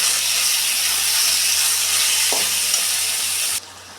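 Mung dal being stirred as it fries in a pan, a steady loud sizzle and hiss that runs unbroken, then drops off sharply near the end.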